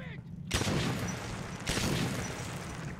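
Gunfire from the shooter game Metro 2033 sounds as two sharp shots about a second apart, each trailing into a noisy rumble, fairly quiet overall.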